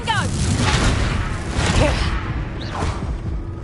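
Fire-spell blasts from Confringo in the wizarding game Hogwarts Legacy, a dense run of booms and whooshing bursts in quick succession, layered over ongoing combat effects and some voice.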